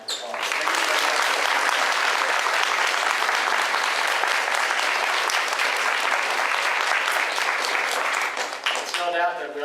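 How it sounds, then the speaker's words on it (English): Audience clapping for two teachers at a school D.A.R.E. graduation ceremony, a long, loud, even burst of applause that holds steady before tapering off at the end. "Let's give your two teachers a round of applause"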